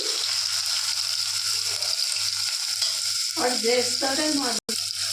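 Onions for chicken curry fry in a pan, a steady, loud hiss with a low hum beneath it; a voice speaks briefly near the end, and the sound cuts out for an instant just before.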